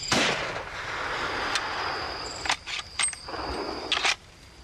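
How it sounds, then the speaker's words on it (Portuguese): Several gunshots fired into the air ring out, a loud first blast followed by a few sharper cracks spaced about a second apart, with insects buzzing steadily behind, in Gorongosa, Mozambique. "O Denja quer dar uns tiros para o ar para ter a certeza."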